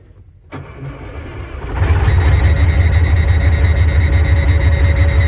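A large truck diesel engine cranks and roars to life, then settles into a loud, steady rumbling idle close by.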